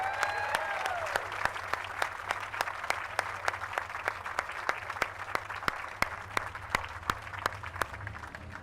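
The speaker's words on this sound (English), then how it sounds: "Let's give them a big round of applause." Sustained audience applause at a Hollywood Walk of Fame outdoor ceremony, steady dense clapping with crowd texture lasting throughout, moderately loud and heard alone with no talking.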